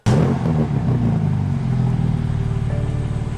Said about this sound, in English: I want you to start this bad boy up. Yeah. So people can hear that exhaust one more time.